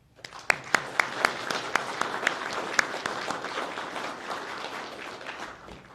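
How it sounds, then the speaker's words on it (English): Audience applause at a police academy class graduation ceremony, opening with a few sharp distinct claps that swell into a steady, moderately quiet ripple of clapping before tapering slightly. "Please give them a round of applause in showing of our appreciation and support for their leadership."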